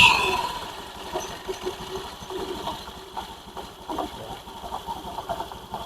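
A motorcycle engine idles after a CVT repair with a low, steady, fairly quiet rumble and light rhythmic pulsing throughout.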